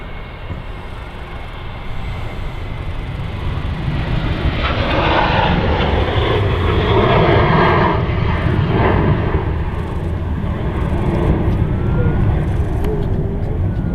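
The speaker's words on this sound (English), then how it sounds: "Here we go, TUI Sunwing." A TUI Sunwing airliner at Manchester Airport roars past with a loud, continuous jet engine drone that builds slightly and holds steady throughout, with no voices heard.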